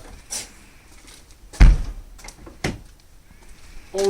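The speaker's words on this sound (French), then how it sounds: "Fermer la porte." A camper cell door is swung shut with a solid thud, followed by a few lighter knocks and clacks of fittings and latches, close by and with no talking.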